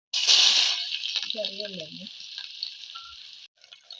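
Loud hiss of green chilies and curry leaves dropped into hot oil for tempering a banana curry, settling into a steady sizzle while a person talks briefly over it.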